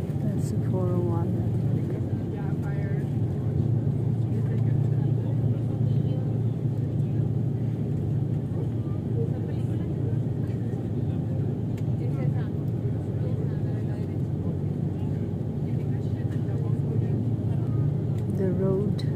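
Steady low rumble of road traffic on Highway 401 running beside Toronto Pearson Airport, a constant distant drone under intermittent talking.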